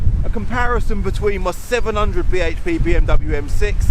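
Strong wind buffets a microphone outdoors, a low rumbling roar running steadily beneath someone talking about his BMW M6 and Audi RS6 cars.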